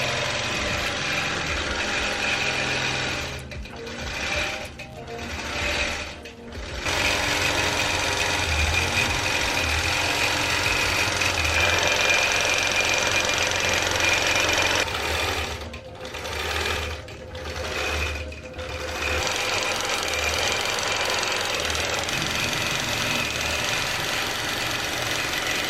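Longarm quilting machine stitching across a quilt, a steady loud mechanical whir and rapid needle chatter that runs almost continuously, broken by two clusters of short pauses.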